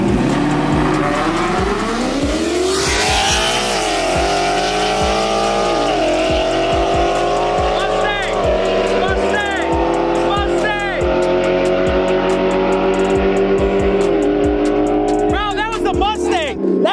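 A Mustang and a Cadillac ATS-V in a street race roar past, their engines rising loudly through hard revs with a brief tire squeal, while people talk and shout nearby.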